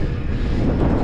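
Steady wind roar buffets the microphone during an electric-assisted mountain bike ride across the Basque Country, coming from the left side as a constant broadband rush with no talk over it.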